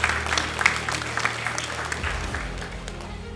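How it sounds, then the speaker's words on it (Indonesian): A crowd at a graduation ceremony at STPN applauds, brisk scattered clapping that thins out while a low hum from the hall's sound system sits underneath. "Tepuk tangan untuk kita semuanya."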